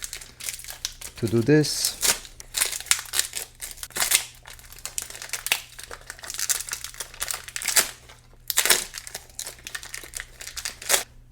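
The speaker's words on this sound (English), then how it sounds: "the first step is to open this package" Crinkling and tearing of a plastic ink package for an HP Smart Tank 5101 printer, with sharp rustling bursts near the start and again later, under a person talking.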